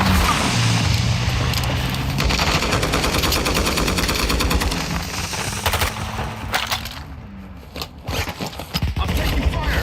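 Rapid gunfire in a Call of Duty DMZ match, dense bursts and sustained automatic fire filling the mix loudly for most of the stretch, with a brief lull near the end.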